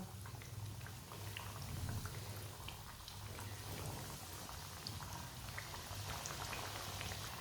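Cheese-filled samosas fry in hot oil, producing a dense, steady bubbling sizzle that stays level and fairly quiet throughout, close by, with a low hum underneath.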